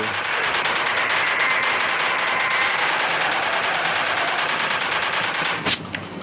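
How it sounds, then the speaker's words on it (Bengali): Sustained rapid machine-gun fire aimed at dinosaurs in the Indian Bikes Driving 3D game, a loud continuous rattling burst running about five and a half seconds before cutting off abruptly. "তো এবার মেশিন গান দিয়ে ডাইনোসরে আক্রমণ করার পালা এসে গিয়েছে।"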